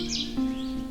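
A common yellowthroat, a loud warbler of marsh and wetland edges, sings a brief lively phrase with bright high notes over a steady low hum, close and clear.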